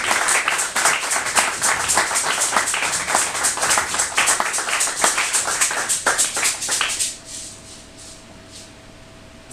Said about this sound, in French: Nous acclamons très très très très fort notre Seigneur